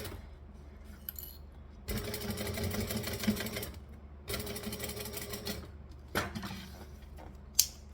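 A sewing machine stitches forward and then back-stitches in two loud, rapid whirring bursts separated by quiet pauses, with light clicks and handling noises in between.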